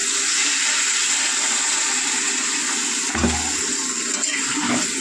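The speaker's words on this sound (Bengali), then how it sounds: "এবার জল অ্যাড করে দেবো।" Water pours into a hot cooking pan of vegetarian soybean and pointed gourd curry, a steady rushing gush close by that fades into bubbling, with no talk.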